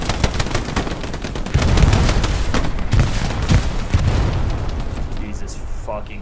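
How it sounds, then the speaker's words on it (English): Grenade blasts and heavy gunfire from the World War II shooter Hell Let Loose during a beach assault, with dense low booms and rapid shots under overlapping shouted talk. "I threw one more grenade"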